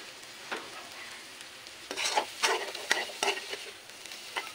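Hotdog pieces and ground meat fry in a pan with a steady close sizzle, broken by irregular scraping and stirring bursts that grow busier midway.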